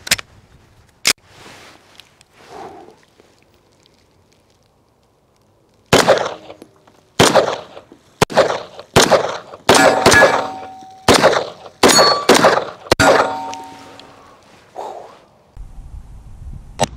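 A Bul Armory Hunter 1911 9mm pistol with a 6-inch barrel fires at one-gallon water jugs filled with dark blue dye. A couple of isolated shots open the sequence, then a loud rapid string of about nine sharp cracks follows with brief echoing decays.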